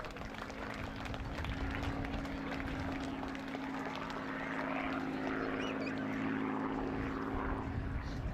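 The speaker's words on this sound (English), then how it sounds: "ladies and gentlemen, the beautiful Spitfire." A Spitfire makes a low pass at a D-Day 80 airshow, its propeller engine a loud, steady droning roar that holds throughout and swells slightly toward the end as it passes.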